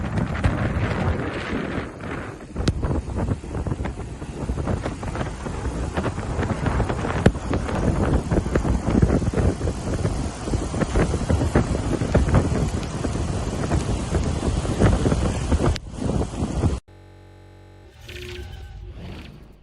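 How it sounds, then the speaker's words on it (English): Hurricane storm surge rolls onto a beach, with waves and strong wind buffeting the microphone in a dense, continuous roar that drops off abruptly near the end. "storm surge rolling right in."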